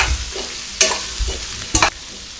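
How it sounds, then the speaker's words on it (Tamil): A spoon stirs potato masala as it sautés in a heavy pan over low-medium heat, with soft sizzling and several scraping strokes in an irregular rhythm, close by. "இப்போ லோ மீடியம்லேயே நல்லா இதை மசாலா பிடிக்கிற அளவுக்கு நம்ம நல்லா வதக்கிக்கலாங்க."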